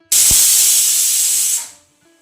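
A pressure cooker cooking dal and rice lets out one loud, close burst of hissing steam that holds for about a second and a half, then cuts off abruptly into quiet.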